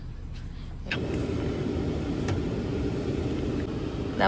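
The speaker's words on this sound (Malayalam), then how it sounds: "സാക്ഷി ഡ്രൈവ് ചെയ്യാൻ കയറിയിട്ടുണ്ട്." Car engine running steadily during a drive at a safari park, a continuous low rumble that starts abruptly about a second in and holds at an even level throughout.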